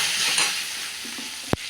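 Turmeric, cumin and coriander powder being stirred into a watery fish curry, a soft continuous simmering hiss with faint scraping strokes, ending in one sharp knock of the spoon against the pot.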